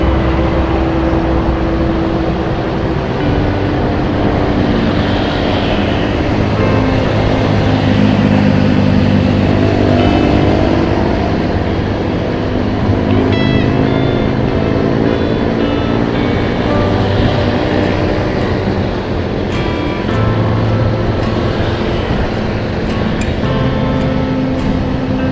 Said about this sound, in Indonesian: Ramai banget ya, ini barengan dengan masuk kantor ini, jam-jam masuk kantor nih, jadi jalanannya itu padat.